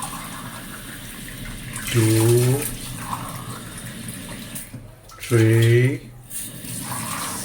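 Water from a coffee mug is poured twice into a cooking pot, two short gushing splashes a few seconds apart, with a person counting aloud between and around them.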